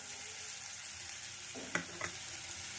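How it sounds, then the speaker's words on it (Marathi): A spice paste seasoned with turmeric powder and salt fries in a pan for a vada pav filling, giving a faint, steady sizzle with two brief clinks near the end. "छान हे वाटण असं फ्राय करून घ्यायचं आहे।"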